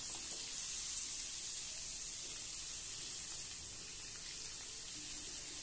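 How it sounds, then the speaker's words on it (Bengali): Sliced papaya hitting hot mustard oil in a pan gives a steady, broad sizzling hiss that holds evenly throughout at a moderate level, with no talking over it. "তেল গরম হয়ে গিয়েছে, এবারে কেটে রাখা পেঁপেগুলো ছেড়ে দিলাম।"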